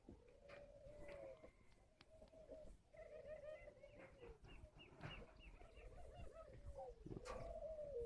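Spotted doves coo at a bird breeding farm, their soft repeated calls faint and distant, mixed with other bird chirps and rustling, with a little murmured talk in the background.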